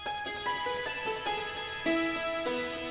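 Dulcimer notes routed through a guitar amp in a side chain, plucked in a quick uneven pattern with a gritty, dirty echo trailing behind; moderately loud, no speech.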